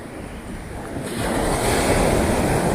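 Surf washes onto the shell-strewn beach at Playa de Islantilla in southern Spain, with steady rushing waves swelling louder midway, wind buffeting the microphone and no voices.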